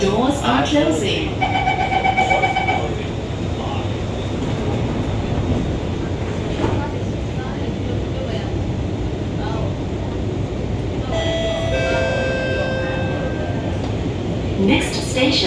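A Singapore MRT R151 train on the Changi Airport branch pulls away after its doors close, a steady rumbling ride with rising tonal motor whine near the start and again later, broadband and continuous throughout.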